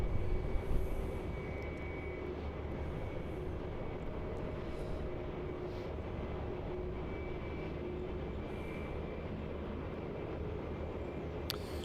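An airliner passes near Melbourne Airport, a loud, continuous broadband engine roar with a steady faint whine, sustained throughout at close range.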